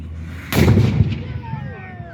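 Colonial cannon fired at Colonial Williamsburg: a single loud, deep boom that rolls and echoes away outdoors, with faint crowd sounds around it.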